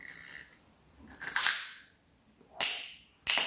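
A red metal cap is pried off a Soviet beer bottle with several sharp cracking snaps, the last two loud and abrupt, with no talk.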